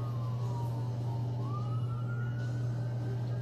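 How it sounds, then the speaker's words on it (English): Ambulance siren wailing on the Las Vegas Strip near the MGM Grand, a rising and falling tone at some distance over a constant low traffic rumble. "Here comes another ambulance."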